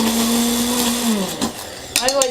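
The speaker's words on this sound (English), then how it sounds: "I'll clean my stick blender there." A stick blender whirs steadily as it mixes lye water with sodium lactate for soap making, then winds down and stops; a short burst of voice follows.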